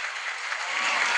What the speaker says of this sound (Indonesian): Tepuk tangan le.